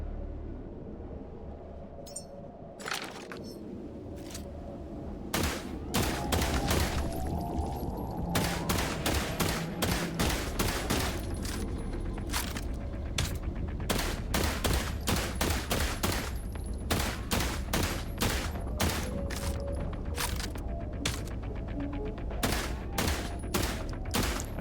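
Gunfire in the video game The Last Caretaker crackles in rapid, sharp shots, rising into sustained dense bursts after a quieter opening stretch, loud and close.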